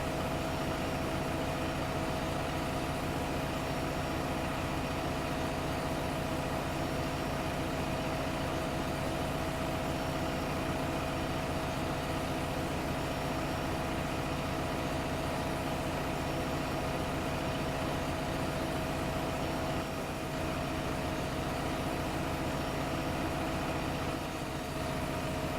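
A tractor engine runs at a steady, unbroken drone in Farming Simulator 15, a dense low rumble with a hissing wash on top that holds unchanged throughout, with no voices.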